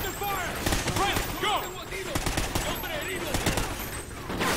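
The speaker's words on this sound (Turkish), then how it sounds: "Kim ateş ediyor göremiyorum ki." Rapid bursts of automatic gunfire and scattered single shots crackle in the video game Call of Duty: Ghosts, loud and dense, mixed with whizzing effects in a chaotic firefight.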